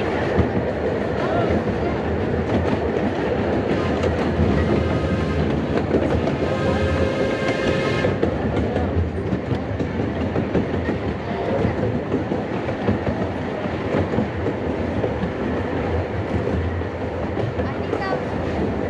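Miniature steam train of the Redwood Valley Railway in Tilden Park, Berkeley, rolling through redwood forest, with steady clickety-clack of wheels and a continuous rumble close by, a brief hiss partway through, and faint voices underneath.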